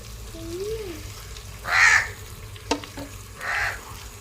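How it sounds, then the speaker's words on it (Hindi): Spices and salt frying in a pan for kadhi pakora in a village kitchen, a soft sizzle with a couple of louder hissing bursts and stirring clinks, with a crow cawing nearby. "अच्छी तरह से थोड़ा सा फ्राई कर लेते हैं।"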